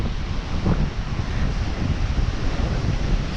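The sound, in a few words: beach with waves at Hamlin Bay, Australia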